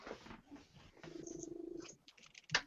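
A domestic cat purring close to the microphone, a soft steady rumbling purr in the middle of the clip with a few faint meow-like sounds around it, quiet overall.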